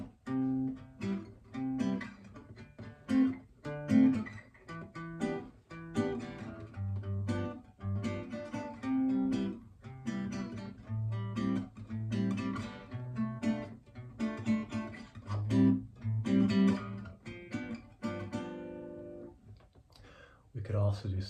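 A chord progression built from Fibonacci numbers, played as a string of sustained harmonic chords that change every second or so in an even, steady rhythm, full and close with no voices.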